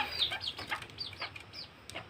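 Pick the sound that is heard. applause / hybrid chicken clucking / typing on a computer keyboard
hybrid chicken clucking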